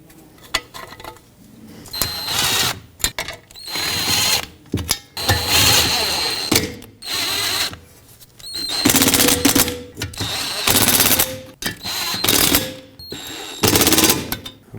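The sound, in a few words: power tool tightening bolts on Toyota Camry backing shield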